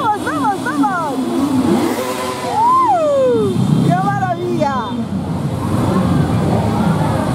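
Motorcycles arrive at the Motorrama gathering in Guadarrama, engines revving in rising and falling sweeps at close range, several bikes overlapping as a person speaks over them.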